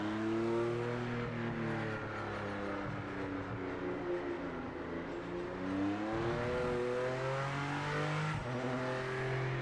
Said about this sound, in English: I think the car sounds nice and throaty.